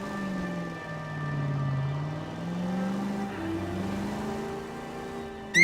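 A car engine in the LA Noire video game drones steadily throughout, its pitch gently rising and falling as the vehicle is driven, with no talk over it.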